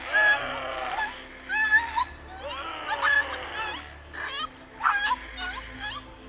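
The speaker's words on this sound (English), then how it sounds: "the desperate cries of this puppy" A puppy whimpers and cries in a series of high, wavering yelps, pausing briefly between bursts, close by with a low hum underneath.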